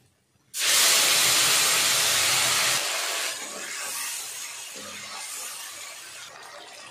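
Spice paste hits hot oil in a pan while a Bengali fish curry is being cooked. A sudden, loud, bright sizzle erupts, holds steady, then drops and gradually settles into a softer continuous frying hiss.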